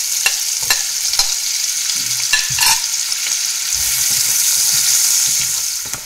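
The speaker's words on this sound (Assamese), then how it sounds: "তাৰপিছত এয়া বাকী অকণমান তেল দি প্ৰথমতে ভাজি ল'ম পিঁয়াজখিনি।" Chopped onions fry in a little oil in a pan, a loud continuous sizzle broken by several scraping stirs of a spatula, close up and with no talking.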